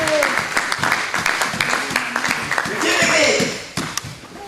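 A church congregation applauds and cheers in acclaim during a sermon, dense steady clapping with voices calling out over it, close and fairly loud throughout.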